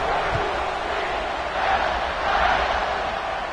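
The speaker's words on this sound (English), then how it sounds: "this crowd is buzzing after that last score" A football stadium crowd at a game tied in the final period keeps up a loud, continuous roar and murmur after a score, rising slightly near the middle, with no clear speech.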